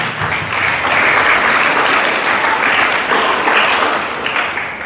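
A church congregation applauds together at a Telugu Catholic sermon, a loud, dense burst of steady clapping that fills the room for several seconds without a break.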